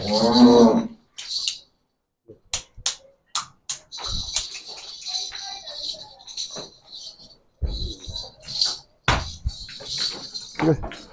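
A heifer moos loudly and close on a Punjabi village farm, one long low call at the start, followed by scattered knocks, shuffles and clatter around the animal.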